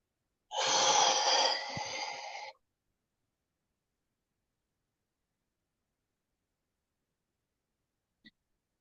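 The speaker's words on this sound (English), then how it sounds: "Nice deep breath." One person takes a single deep, audible breath lasting about two seconds, close and clear, followed by silence and a tiny faint click near the end.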